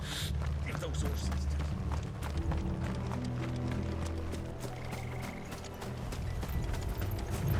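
Horses gallop in Final Fantasy XVI, a steady run of rapid hoof clip-clops under game music and voiced dialogue.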